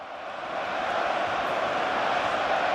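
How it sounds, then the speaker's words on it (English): Stadium crowd roaring after a Champions League goal in an Arsenal versus Real Madrid match, a dense wash of cheering that swells in the first half second and holds loud and sustained. "Listen to the crowd now going absolutely wild, and so they should do"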